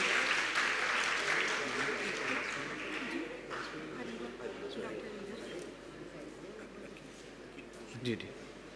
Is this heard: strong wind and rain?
no